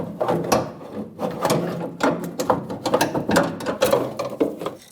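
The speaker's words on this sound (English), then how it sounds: "pull the filler neck out of the wheel well" The plastic fuel filler neck of a 2011-2018 Ram 1500 is worked loose and pulled from the wheel well, giving a run of close rattling, creaking and clicking scrapes in irregular bursts.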